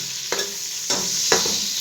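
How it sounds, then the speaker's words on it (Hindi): Sliced onion frying in hot ghee for a bhindi gosht, a steady close sizzle broken by a few soft scraping stirs. "अब आपने इसमें एक अदद स्लाइस में कटी प्याज शामिल कर देनी है।"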